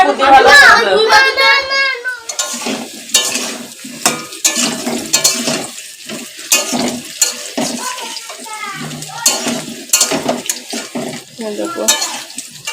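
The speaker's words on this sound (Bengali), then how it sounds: "আলুগুলো ভালো করে ভেজে নিই আলুর দম করবো" Potatoes frying in oil in a home kitchen for aloor dum, with scraping stirs and a soft sizzle under near-constant talk, including a voice.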